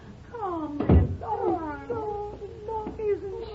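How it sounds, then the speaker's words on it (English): A small white stray kitten meows repeatedly, several thin rising-and-falling cries close by, broken by a loud thump and clatter like a door or cupboard. "Just a little stray kitten, but white all over."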